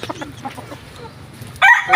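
A fighting rooster being conditioned for a Sunday cockfight gives soft, close clucks, then a sudden louder burst of calling near the end, with faint background noise throughout.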